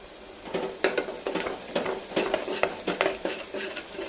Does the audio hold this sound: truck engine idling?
no